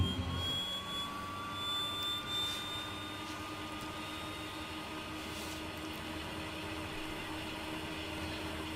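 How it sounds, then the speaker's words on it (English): An Embraer 110 Bandeirante turboprop in Microsoft Flight Simulator starting its right engine, a steady turbine whine climbing slowly in pitch over a loud, constant roar, close and sustained throughout, with no talking. "we will start the right engine today"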